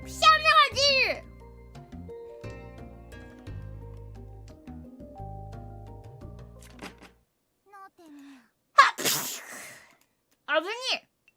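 A single forceful sneeze erupts after a short quiet gap, with a voice speaking before and after it over soft background music.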